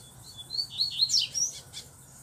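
A coleiro seedeater songbird sings a short series of high, sweet chirps and trills, fairly faint over a low background hum, with no one talking.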